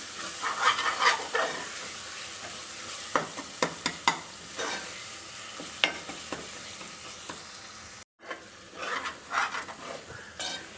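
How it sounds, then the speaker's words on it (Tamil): Mint and coriander leaves sautéing in a hot pan for prawn biryani, a steady sizzle with repeated scraping stirs and clacks, fairly close, with no talking. "புதினா கொத்தமல்லி தடவி போட்டு நல்லா வதக்கிக்கலாம்"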